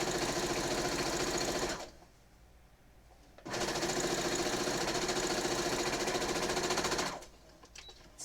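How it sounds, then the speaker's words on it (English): A sewing machine runs close by in two steady bursts, stitching a quilt binding's raw edges with a quarter-inch seam, a rapid mechanical whir with a short pause between runs and a quieter stop at the end. "So all I'm doing is sewing the raw edge to the raw edge with a 1/4 inch seam all the way down."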